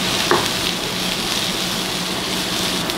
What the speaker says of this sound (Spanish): Dejamos sofreír como por un minuto.